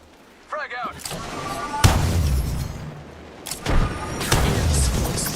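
A frag grenade detonates in a squad-based multiplayer shooter, giving a deep booming blast followed by a second heavy explosion a couple of seconds later, with continuous battle noise and some voice chatter throughout.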